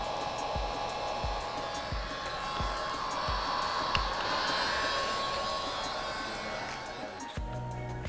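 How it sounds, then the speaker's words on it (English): A heat gun or hair dryer blows steadily to warm a flex cable during an iPhone 6s screen replacement, a continuous close whooshing hiss lasting several seconds, ending abruptly near the end, with periodic low clicks underneath. "now you use your heat gun or hair dryer,"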